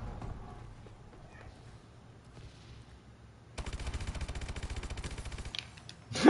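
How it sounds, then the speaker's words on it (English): Sustained rapid gunfire in Call of Duty: Advanced Warfare breaks out after a quieter stretch of game ambience, a steady stream of closely spaced shots that is fairly loud and close and lasts several seconds before ending. "Is that just steady shooting?"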